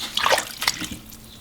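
Lettuce is swished around in a bowl of water, which sloshes and swirls briefly, with light splashes and drips, close by.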